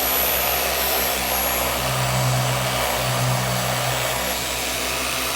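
A dual action car polisher hums steadily at speed 2, a loud continuous motor drone with a faint high whine, unbroken and close throughout.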